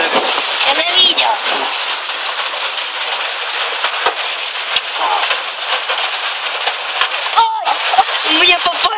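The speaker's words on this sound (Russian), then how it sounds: "Это град такой большущий." Large summer hailstones batter down at a country dacha in a dense, loud, continuous clatter of hard impacts and splashes, with people talking and exclaiming over it.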